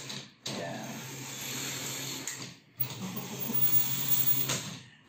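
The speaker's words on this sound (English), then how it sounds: "I can knit sweaters all day by just turning my finger" A hand-cranked knitting machine works a sweater in long mechanical sweeps, each pass a hissing, clattering run broken by short pauses as the direction changes.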